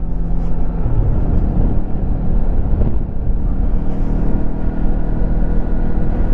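2025 Lifan KPT 400 motorcycle cruising on back roads, its engine holding a steady loud rumbling drone mixed with wind roar, close and continuous with no talking.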